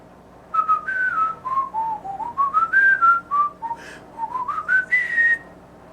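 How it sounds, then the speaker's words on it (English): Someone whistles a clear, steady melody of rising and falling notes, close and fairly loud, with no talking. "Whistle this section."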